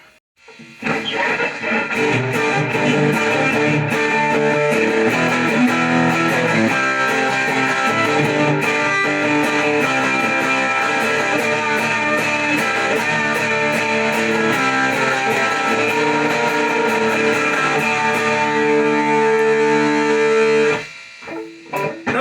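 Electric guitar played through an Orange Crush 20 amplifier with a Behringer pedal at full distortion, producing a loud, dense, fuzzy riff with rapid chord changes that rings continuously for about twenty seconds before cutting off.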